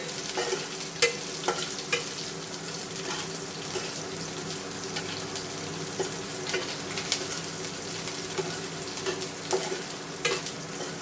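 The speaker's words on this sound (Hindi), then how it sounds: "अब मैं इसमें प्याज डाल रही हूँ।" Chopped onion frying in a pan with cumin for a banana kofta curry, a steady close sizzle with scattered clicks of stirring and scraping throughout, no talking.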